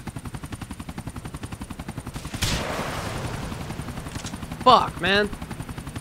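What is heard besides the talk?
police helicopter flying overhead in the video game Grand Theft Auto IV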